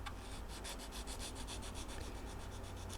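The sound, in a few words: filing a Gibson LG-3 guitar neck with a file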